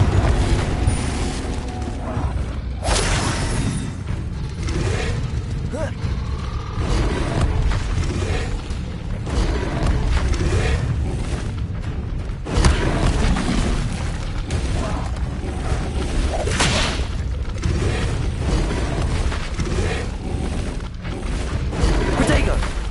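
Repeated Confringo fire-spell blasts in the Hogwarts Legacy wizard-combat game, booming bursts scattered through a dense, busy battle mix alongside other spell effects and shouted incantations.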